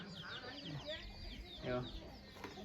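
A rooster clucks in short, low bursts nearby on a farm, with a few higher bird calls and some faint voices in the background.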